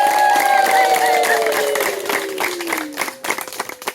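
Loud crowd applause at a church sermon, with dense clapping and a sustained tonal hum fading out, the clapping thinning into scattered claps toward the end.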